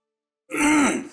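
A man gives a short, rough cough or throat-clearing in a TV crime drama scene, a single burst heard alone and close.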